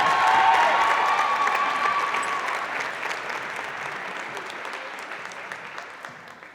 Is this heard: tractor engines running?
no